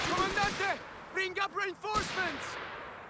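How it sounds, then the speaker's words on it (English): Artillery shells thud and crack in Company of Heroes 3, a few distant explosions and gunfire mixed with game unit voice lines, at moderate volume. "Dropping down some artillery."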